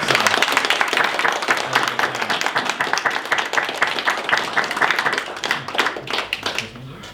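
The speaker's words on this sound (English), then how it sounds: "a round of applause, please, for our new CEO." Sustained crowd applause at a US Navy USS Cuchulain commanding officer transfer ceremony, dense steady clapping from many hands for about seven seconds before tapering off at the end.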